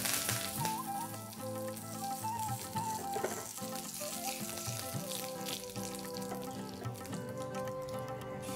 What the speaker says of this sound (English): Once the oil is nice and hot, add a couple of boria chilies or round chilies or any dry red chilies that you have.